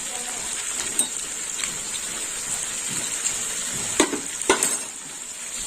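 Cashew paste with papaya and chana dal stir-frying in a pan, a steady hissing sizzle with a few sharper scraping stirs near the end.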